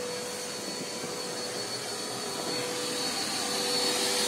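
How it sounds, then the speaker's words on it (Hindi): A 10-litre wet-dry vacuum cleaner runs continuously at a car wash, a loud, steady whooshing roar with no pauses or voices. "तो वैक्यूम इस तरह मारता है"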